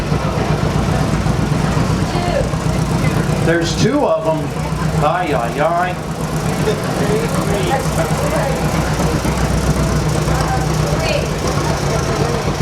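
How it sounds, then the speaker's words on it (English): A John Deere tractor engine passes nearby, a steady loud mid-pitched drone that continues throughout while people talk briefly over it. "I'm going to wait until this tractor passes."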